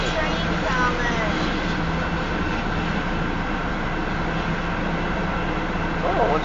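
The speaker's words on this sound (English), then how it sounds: "Oh, we got a second train coming." A Union Pacific train on the Spine Line north of Elkhart, Iowa gives a steady, continuous rumble with a droning engine hum, heard from a moderate distance throughout while a person talks nearby.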